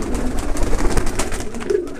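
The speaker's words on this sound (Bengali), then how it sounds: "দর্শক দেখেন অনেক সুন্দর সুন্দর পোটার কিছু কবুতর" Pouter pigeons coo nearby in a low, continuous murmur of overlapping throaty calls.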